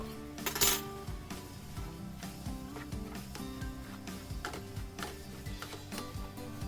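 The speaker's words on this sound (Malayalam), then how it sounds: "2 പ്രാവശ്യമായിട്ടിട്ട് നല്ലോണം ഇളക്കി യോജിപ്പിച്ചെടുക്കുക" A spoon stirs a semolina (rava) mixture in a pan, giving a run of clinks and scrapes with an uneven rhythm, led by one louder clatter, with no talking.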